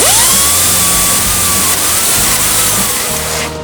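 A power tool whines loudly up to speed and runs continuously, close and harsh, while hogging holes out into ovals in a metal nut plate for a fabricated camper 2-inch receiver; no talking.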